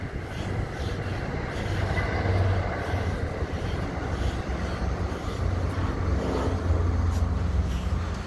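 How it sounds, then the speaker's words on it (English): A commuter rail train passes outdoors on a cold day, a steady broad rumble and rolling roar that holds for several seconds, with no talk over it. "There goes the commuter rail, guys."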